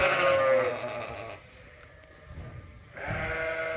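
Several sheep on a farm bleat while waiting for breakfast, loud and close at first, then a quieter gap of shuffling before another bleat rises near the end.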